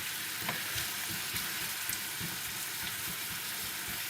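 Honey glazed carrots cooking in a pan, a steady close sizzle and bubbling fry with faint stirring clicks, continuous and even throughout.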